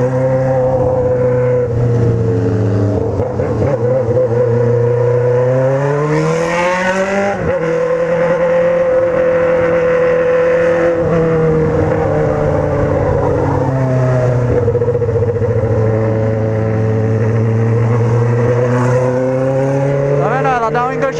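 A remapped Honda Hornet motorcycle engine revs loudly and close, its pitch rising and falling through repeated throttle blips with brief stuttering hesitations before it clears, running continuously throughout.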